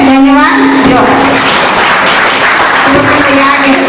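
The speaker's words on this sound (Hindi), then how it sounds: "जोरदार तालियों से उनका स्वागत करें।" An audience at a Women's Day event breaks into loud applause, a dense, continuous clapping that fills the room, with a voice over a loudspeaker heard briefly at the start.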